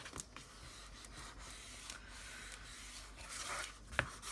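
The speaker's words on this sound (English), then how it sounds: "just gonna rub that, and then again with the bone folder in the little creasy part" Soft, close rubbing strokes of a bone folder pressing paper down along a crease on a junk journal cover, with quiet scraping swishes and one small sharp tap near the end.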